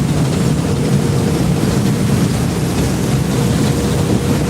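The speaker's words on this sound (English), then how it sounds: "Gonna get noisy again. Engine's kicking up." A Thames Clippers passenger boat engine on the River Thames drones loudly and steadily as it speeds up, a dense low rumble mixed with wind and water noise, with no voices.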